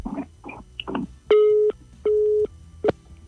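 A radio call-in phone line gives a busy signal: after a few soft clicks and scratchy noises, steady electronic tones sound in three evenly spaced beeps, loud and clear with no talk.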